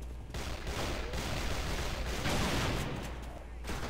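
Rapid, dense shooting in the video game AVA, a continuous loud barrage of shots with no gaps and faint voices underneath; the specific Remington 870 shotgun reports cannot be picked out.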